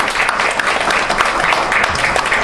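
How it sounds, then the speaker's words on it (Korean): An audience at a forum gathering applauds with dense, continuous clapping, loud and sustained for the whole stretch without letting up. "박수 한번 해주세요"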